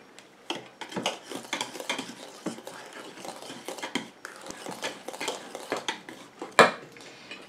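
Utensil stirring coconut conditioner cream in a container, a close run of quick clinks and scraping taps with an irregular rhythm and one sharper knock near the end.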